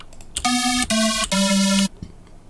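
Three buzzy, hollow square-wave synth notes played in succession, each held briefly with short gaps between, loud and clear with no voices.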